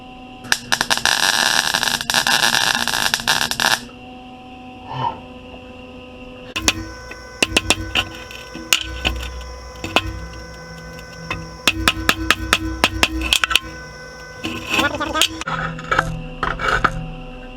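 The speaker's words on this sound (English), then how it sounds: "I'm just going to tap it down to get that curve kind of more there" A hammer taps a Land Rover Series One oil bath air cleaner into a curve, sharp ringing metallic strikes in quick bursts, with a long grinding rasp at the start and sparse rhythmic tapping in between.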